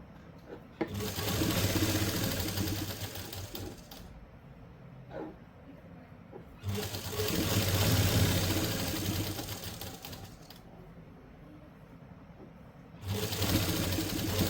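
A sewing machine stitches suit fabric in three sustained runs separated by short pauses, moderately loud and close.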